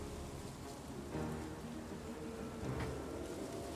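Steady, soft rain falling in the video game Project Zomboid, a continuous even hiss of drops on surfaces with no voices or other sounds.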